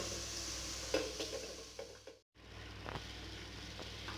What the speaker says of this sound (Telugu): ఇప్పుడు మనం మ్యారినేట్ చేసి పెట్టుకున్న చికెన్ని ఇందులోకి యాడ్ చేసుకుందాం